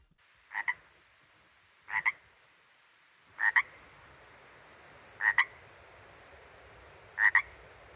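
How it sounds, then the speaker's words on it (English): Frogs croak outdoors, five separate double-pulsed calls spaced about one and a half seconds apart, clear and moderately near against a quiet background. "I hear the frogs outside."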